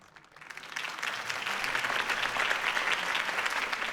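A crowd bursts into applause after a campaign speech in The Batman, the clapping swelling quickly and holding as a loud, dense, sustained wash.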